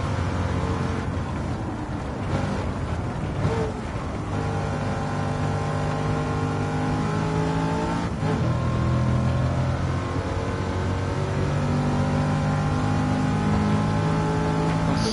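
A Chevrolet Camaro race car in Gran Turismo 7 drones steadily in fifth gear at high speed mid-race, a sustained, harmonically rich engine note with a brief shift in pitch partway through.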